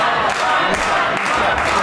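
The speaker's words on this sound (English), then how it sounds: "Fans are cheering." Wrestling fans cheering in an arena during a tag team championship match, a steady loud crowd roar with scattered shouts.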